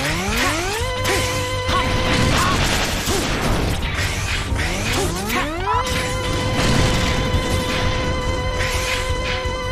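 Mega Man X Dive gameplay gives a busy mix of buster weapon shots, rising electronic sweeps, impacts and background game music, loud and continuous.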